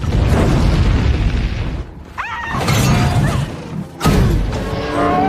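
A loud explosion in the film Deadpool (2016) wrecks a dockyard, booming with crashing, shattering debris, followed by rumbling and a second blast, all dense and close.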